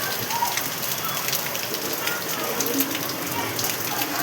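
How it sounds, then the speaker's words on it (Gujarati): Heavy nighttime downpour in Sarkhej, with water flooding into a home, a dense, steady hiss of rain beating on surfaces throughout, close and loud with no breaks. "બધા જોરદાર વરસાદ પડ્યો અત્યારે"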